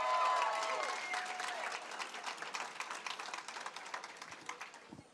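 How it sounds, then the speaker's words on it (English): Crowd at a Democratic midterm election watch party bursts into loud applause and cheering that gradually thins into scattered clapping over several seconds. "give a round of applause to Ed Perlmutter for the amazing job he did serving this state."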